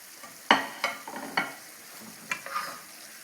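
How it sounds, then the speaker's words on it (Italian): Liver and onions sizzle quietly in a pan while being stirred, with a few sharp scraping clicks of the utensil over a faint frying hiss, no talking. "Aggiungiamo il fegato alla cipolla."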